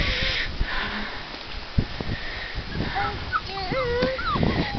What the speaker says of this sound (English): We want to see the puppies.